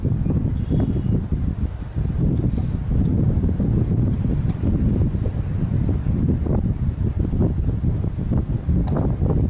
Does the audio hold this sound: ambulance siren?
no